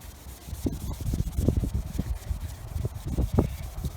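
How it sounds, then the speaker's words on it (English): A cloth is rubbed back and forth over exposed color base coat where a car's clear coat has come off, making soft, rhythmic swishing strokes that repeat close up. "Just gonna go back and forth and clean that spot."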